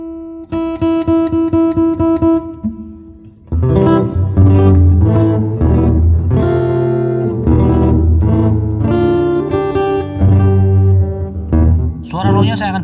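An acoustic guitar plays through a newly installed preamp with the high, mid and low EQ set flat: a short run of picked notes, then strummed chords and melodic phrases ringing out clearly and up close, with no voice.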